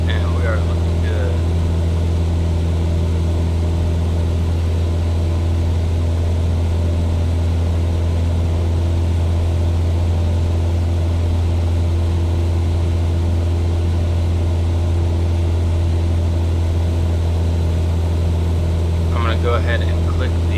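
Cessna 172 Skyhawk piston engine droning steadily while cruising in flight, a loud continuous low hum with a propeller buzz that holds unchanged throughout, with no talking.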